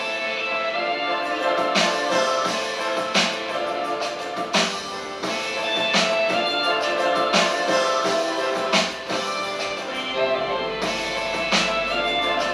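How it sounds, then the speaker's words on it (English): Hip hop beat with a synthesizer melody distorted through Guitar Rig and a transition sound, loud and continuous with punchy drum hits and a low swell near the end. "I ran it again through Guitar Rig to give it some distortion"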